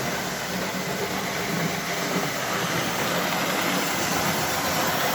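A reworked NGS RB number 1 engine runs steadily with a continuous, even drone that holds close and loud from start to finish, with no talk over it.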